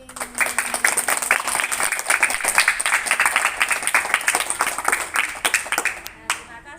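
A class of fourth-grade children applauds after a story read aloud in a classroom, with a dense run of quick, uneven claps from many hands that carries on for several seconds and then fades out.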